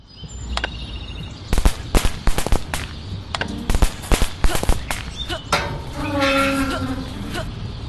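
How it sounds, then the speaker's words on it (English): Fireworks display in the video game Scary Teacher 3D: a rapid run of loud, close bangs and pops, followed by a fizzing, crackling tail, over game sounds. "have you ever seen a greater fireworks display?"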